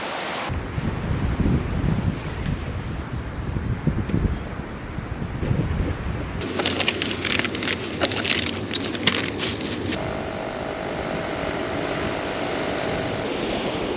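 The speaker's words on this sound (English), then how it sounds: "It is extremely windy, like really windy." Strong wind roars across the open surf beach at Matagorda Beach, Texas, with crashing waves beneath; the gusting noise stays loud and steady throughout, shifting character partway as the wind buffets harder, with no talking.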